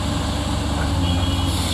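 A Caterpillar CAT 320C excavator with a six-cylinder diesel engine runs at a steady idle, a low throbbing rumble with a constant broadband roar, close and unbroken.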